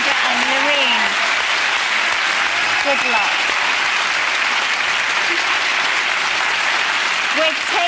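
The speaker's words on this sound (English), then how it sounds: "Can we have, please, a round of applause for Amanda," A studio audience on a daytime talk show claps loudly and continuously in a thick, even roar, with a few brief voices and a short spoken word mixed in.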